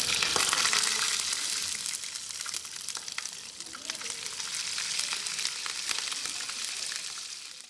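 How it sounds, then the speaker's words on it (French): Food fries in a pan with a steady, fairly quiet sizzle and crackle that lasts the whole clip. "Et après cela, maintenant, je vais frire ça."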